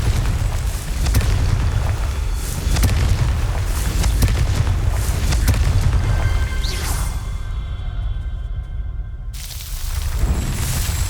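A Confringo fire spell bursts in Hogwarts Legacy as a loud, sustained, rumbling explosion. The blast roars steadily for about nine seconds, drops briefly, then swells up again.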